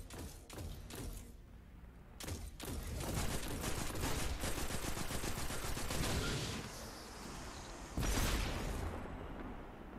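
Rapid bursts of Destiny 2 gunfire crackle loudly and continuously, with sharp shots clustered at the start and another burst near the end.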